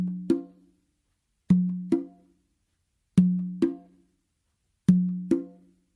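A conga tumba played in a repeating pair: a light ghost-note tap followed by a resonant open tone, four cycles with clear gaps, close and unaccompanied.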